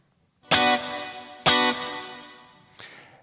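Electric guitar played through a vintage Marshall amp set at the edge of breakup with reverb: two loud strummed chords that ring out and decay into a reverb tail, then a fainter third strum, no voices.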